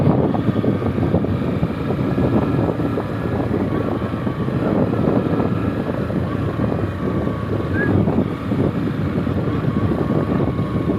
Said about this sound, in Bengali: ইঞ্জিন ব্রেক দেখাবো ইঞ্জিন ব্রেক কারে বলে